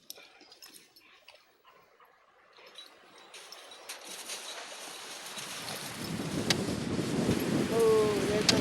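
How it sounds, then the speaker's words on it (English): Wind rising during a March snowstorm, starting faint and building into a steady, broad roar that grows louder toward the end, with faint outdoor sounds mixed in. "Oh, there comes the wind."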